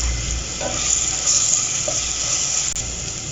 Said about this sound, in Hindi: अब मैं यहाँ इसमें प्याज भी डाल दूँगी और इसको भी 1-2 मिनट के लिए फ्राई कर लेंगे अच्छे से